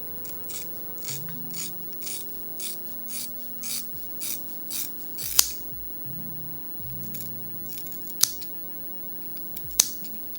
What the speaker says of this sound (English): I'm gonna take the scissors right underneath my hand and start to cut straight